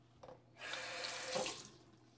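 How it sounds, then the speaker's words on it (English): Tap water runs into a kitchen sink for about a second while jalapeño seeds are rinsed out, a steady close splashing rush that swells briefly near the end before cutting off. "Rinse the seeds, look at that."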